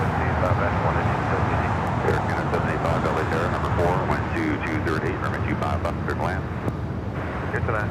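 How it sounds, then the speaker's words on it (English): Cathay Pacific airliner taxiing at LAX, a broad steady jet engine rumble heard from a distance, with people talking over it throughout. "All right, Cathay is starting its taxi."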